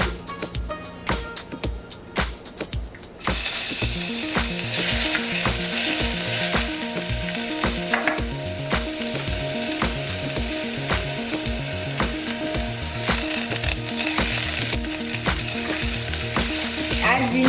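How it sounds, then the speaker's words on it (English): Garlic and ginger hit hot oil in a heated pan, setting off a loud, continuous sizzle that fills the rest of the clip, with faint music underneath. "In a heated pan, add some oil. Add garlic and ginger."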